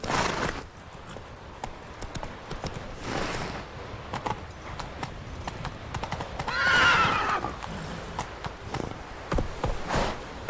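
Horse hooves clip-clop steadily while riding in The Witcher 3 game, with a whinny and jangling tack partway through, all fairly close.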